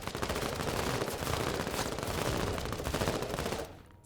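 Continuous automatic gunfire from the video game MENACE, a dense rattling burst of rapid shots that carries loud and steady for several seconds before stopping abruptly.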